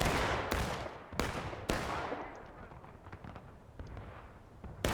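Musket fire in the Civil War game War of Rights, on a public match at Alexander Farm: several loud, ragged shots crack out in the first two seconds, each trailing a long echoing rumble, with more distant scattered shots after.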